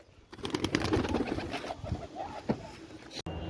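Pigeons coo nearby in a run of low, throaty, rolling calls, with faint rustling and a sharp click near the end.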